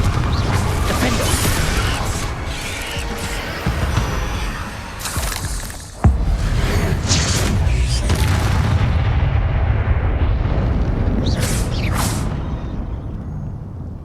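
A Confringo fire spell from Hogwarts Legacy bursts in loud blasts and crackling impacts over dense, continuous combat noise, with a sharp crack midway and more bangs near the end.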